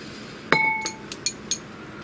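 A metal half teaspoon clinks against glass while measuring, giving one bright ringing strike followed by three or four lighter taps in a quiet room.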